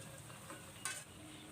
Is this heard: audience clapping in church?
no